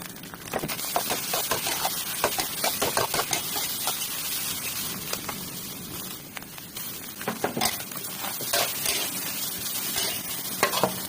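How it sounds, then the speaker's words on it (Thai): Eggs stir-fried in a wok at a made-to-order food stall give a loud, continuous sizzle, with the spatula rapidly scraping and clattering against the pan throughout and no voices. "ต่อไปใส่กระทะนะคะ เราจะรอให้ไข่สุกก่อนนะคะ"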